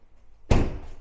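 A Range Rover Sport door slams shut once, a single loud close thud after a short quiet moment, its resonance fading out behind it.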